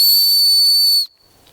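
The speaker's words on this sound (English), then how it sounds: "Now, it came with this little whistle." A small whistle supplied with outdoor gear gives a single shrill, hissy blast of about a second, loud and close, then stops abruptly with a thin fading tail and quiet after it.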